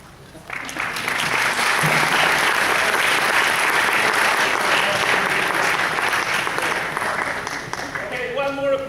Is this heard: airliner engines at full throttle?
no